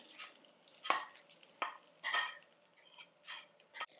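A spatula scrapes and clinks against a pan as fresh grated coconut is sautéed in ghee for modak filling, with several sharp, close scraping strokes spread unevenly over a quiet background.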